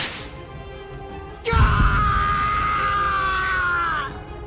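Male characters in the video game Bleach Rebirth of Souls let out a loud, sustained scream of pain, starting abruptly and holding for about two and a half seconds before fading.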